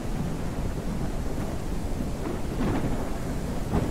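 A thunderstorm in the farming video game Ranch Simulator rumbles steadily with heavy rain and wind noise, a dense, even roar with no speech.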